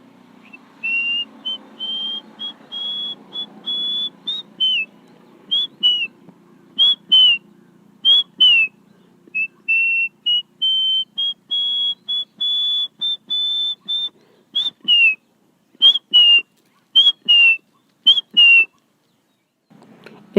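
A man whistles an imitation of the chatak bird's call, a string of loud, clear rising notes repeated in bursts with short gaps, some held and others clipped into quick chirps, alone and close.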